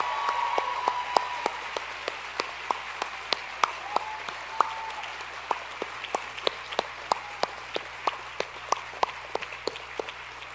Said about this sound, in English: we can give a round of applause to all the faculty and staff at the school